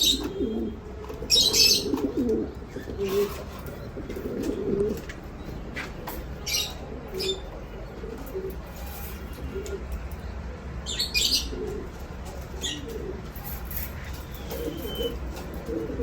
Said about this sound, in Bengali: একজোড়া রেড লাহরি কবুতর আছে